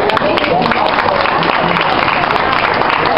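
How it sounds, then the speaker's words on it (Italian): An audience at an outdoor street cabaret in Udine gives a street performer a dense, steady round of applause, loud and close, with no voice on top. "un altro piccolo applauso"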